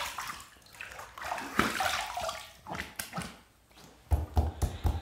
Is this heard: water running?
yes